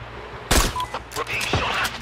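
Gunfire in Sniper Ghost Warrior 3: two sharp, loud rifle shots about a second apart, each with a booming tail, over low background ambience.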